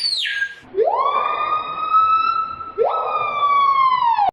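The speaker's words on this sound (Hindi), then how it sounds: "Number 2, grey cat bird." A gray catbird gives a loud, siren-like call, two long rising-then-level wails in a row, clear and close against a quiet background.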